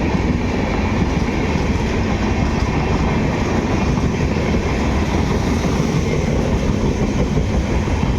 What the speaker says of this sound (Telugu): చాలా పొడవు ఉంది ఈ ట్రైన్ అయితే, ఎంత పొడవు ఉందో చూడండి.